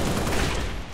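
Rapid Halo gunfire rattles loud and close in a dense, continuous burst lasting about a second.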